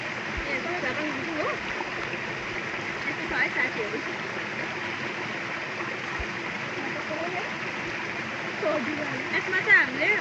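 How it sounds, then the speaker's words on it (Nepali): A jungle stream by a waterfall rushes steadily and close at hand, a constant broadband wash of flowing water with faint splashes, while people talk softly underneath. "हामी यहाँ जङ्गलको बिचमा खोलामा छौँ"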